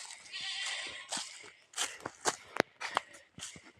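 A pregnant goat bleats in a drawn-out call, followed by several shorter bleats mixed with crunching steps nearby.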